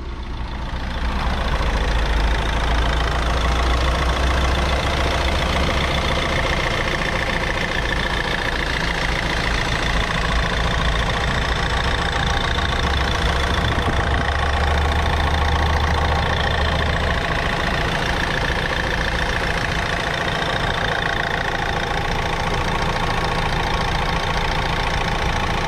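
A Renault Megane 3 GT Line's 1.6 petrol engine with timing chain idles steadily for the whole stretch, a smooth, even rumble with a faint ticking, recorded up close with no talking.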